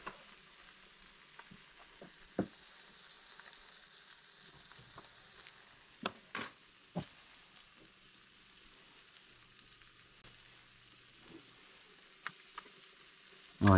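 Sheepshead fillets fry in butter in a pan with a soft, continuous sizzle and crackle, broken by a few sharp clicks and taps of a utensil and no talking.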